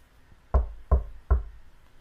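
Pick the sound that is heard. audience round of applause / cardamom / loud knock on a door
loud knock on a door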